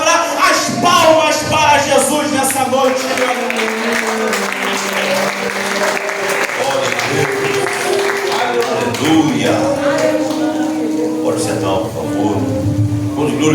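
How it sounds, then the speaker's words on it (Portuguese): A church congregation at a worship service claps hands steadily in sustained applause, with voices shouting and singing over the dense clapping throughout. "as palmas para Jesus nessa noite"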